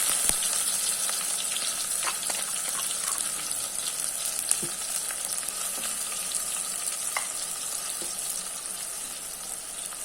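Garlic paste, rampa, curry leaves and onions frying in a pan for Sri Lankan yellow rice, a steady bright sizzle throughout with occasional stirring clicks and spatters, close and fairly loud.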